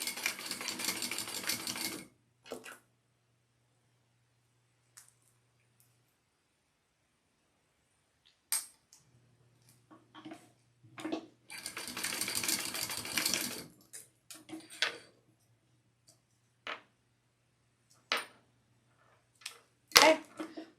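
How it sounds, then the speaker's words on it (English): Sewing machine basting a D-ring onto a sling pack, short bursts of rapid stitching separated by quiet pauses and faint handling clicks, close and fairly quiet. "I'm just going to put my D-ring and we'll just baste that together"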